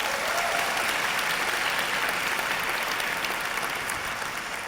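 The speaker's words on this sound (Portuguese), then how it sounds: "Vamos aplaudir Jesus na vida dele" A church congregation applauds steadily for several seconds, a dense, even wash of clapping from many hands filling the room.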